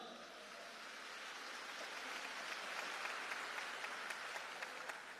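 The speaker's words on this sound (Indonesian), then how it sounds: "Beri tepuk tangan yang meriah untuk beliau." Audience of Islamic boarding school students applauding a former Jakarta governor at a Ramadan visit, a steady wash of distant clapping that holds for several seconds at moderate level, with no talking.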